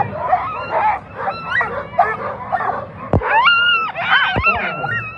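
Sled dogs at the start of the Fur Rondy Open World Championship sled dog race yip, whine and bark excitedly in a loud, overlapping chorus, with a couple of sharp knocks in between.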